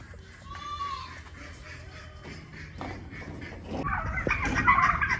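Poultry calls rising from a busy farmyard, turkeys gobbling among other birds, growing louder and more crowded toward the end with rustling underneath.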